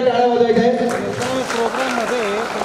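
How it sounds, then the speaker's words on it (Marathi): A crowd at a prize-draw event held by a clothing shop applauds loudly and steadily, with a voice speaking over the clapping throughout. "सो एकदा जोरदार टाळ्या वाजवायच्या आहे"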